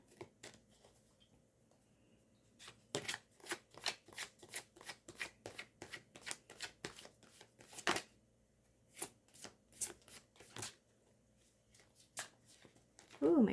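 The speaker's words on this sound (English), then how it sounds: "my cards are going all over the place" A deck of tarot cards is shuffled by hand in a quiet room, producing close, crisp riffling bursts in an uneven rhythm with short pauses, while a voice murmurs faintly nearby.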